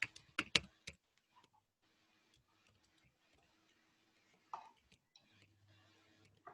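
Quiet, sparse keystrokes on a computer keyboard while code is written, with a few louder clicks at the start and soft tapping scattered through near silence.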